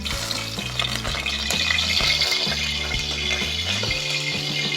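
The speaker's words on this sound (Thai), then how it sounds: "เมื่อกระทะเริ่มเดือดแล้วนะครับ" Hot vegetable oil sizzles and crackles steadily and up close in a pan, ready for frying insects, with a constant fizzing hiss over a soft tonal hum in the background.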